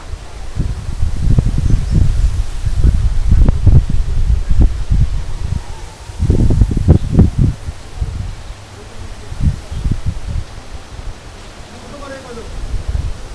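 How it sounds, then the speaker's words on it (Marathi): Gusty wind rushes across rice paddy fields in loud, uneven surges with rustling, fading and swelling again over several seconds. "भात शेती आणि वारा आल्यानंतर बघा जबरदस्त वाटतं"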